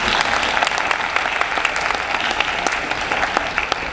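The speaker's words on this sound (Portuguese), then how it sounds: "Uma salva de palmas, por favor." An audience at a medical talk on Choosing Wisely gives three presenters a round of applause, with steady, fairly loud crowd clapping and some sharper individual claps standing out throughout.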